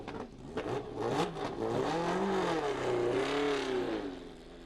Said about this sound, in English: the cars dived out of the pits onto Kyalami's start and finish straight